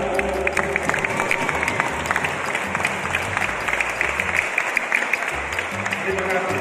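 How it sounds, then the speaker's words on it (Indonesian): An audience at the opening of the Fadil Imran Cup badminton championship in Central Sulawesi applauds, a loud, continuous wash of many hands clapping together for several seconds. "Kita berikan tepuk tangan khusus buat Pak Fadil Indra."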